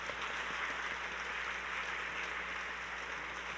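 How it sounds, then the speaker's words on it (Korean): A church congregation in Korea applauds as a missionary pastor is welcomed to the front, a steady, even wash of many hands clapping that holds without a break for the whole stretch, moderately distant, with no voices over it. "큰 박수로 환영하시겠습니다"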